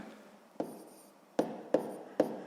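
Pen or pencil writing out a math answer on paper, four short distinct scratching strokes close by against a quiet room, each ending in a faint tail.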